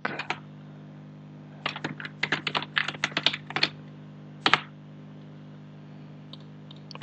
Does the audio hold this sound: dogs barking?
no